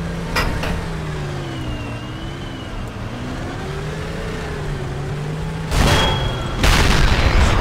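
Tank cannons fire in the World of Tanks game as two heavy booms late in the stretch, with a humming engine drone and game ambience running underneath.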